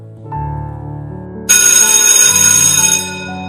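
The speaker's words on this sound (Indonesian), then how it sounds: "bel pulang sekolah pun berbunyi. Kring." A school dismissal bell rings loud and sustained for about one and a half seconds, following a low tonal lead-in, in a quarantine-era high school setting.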